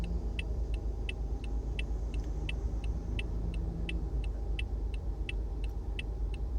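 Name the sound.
car driving, road noise inside the car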